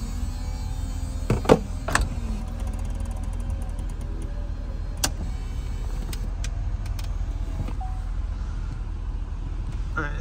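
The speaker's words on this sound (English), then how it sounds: "So it's a power convertible top. I'm just holding the button until the operation's complete." The power convertible top of a 2007 Chevrolet Corvette cycling: a steady electric motor whir under a background hum, marked by a few sharp mechanical clunks and clicks near the start and midway.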